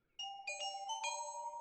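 Cartoon bell chime effects from Mickey Mouse Clubhouse: a few clear, ringing dings in quick succession, each overlapping the last's sustained tone, close and clean with no talk.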